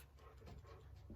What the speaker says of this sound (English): you can hear a dog panting in the background